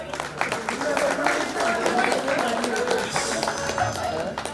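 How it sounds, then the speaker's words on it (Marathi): Applause at a Bhiwandi bus depot staff get-together in 2025, given for a bus conductor named Sonali. Steady, dense clapping from a crowd fills the whole stretch, fairly close, with voices mixed in underneath. "आणि सोनालीसाठी टाळ्या होत्या."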